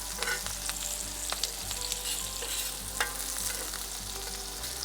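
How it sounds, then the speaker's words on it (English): An onion softens in a hot pan for a bologna sauce, sizzling continuously with small crackles and stirring clicks, close and steady, with no talking. "We just want to saute our onion."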